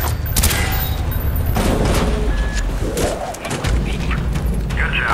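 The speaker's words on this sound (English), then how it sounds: "Shoot the hinges!" Gunfire aimed at door hinges in the 2010 video game Call of Duty: Black Ops: a loud, continuous barrage of booming shots and clattering mechanical impacts, with a brief dip near the end.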